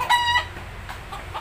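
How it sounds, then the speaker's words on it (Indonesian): Chickens perched up above an orchid garden give a few short clucks, fairly near and loud at first, then fading into quieter outdoor background. "Itu ada ayamnya di atas. Ada ayam di atas ya."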